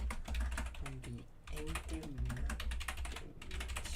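Rapid, irregular clicks of typing on a computer keyboard while writing LaTeX math, steady and close, running under a man's speech throughout.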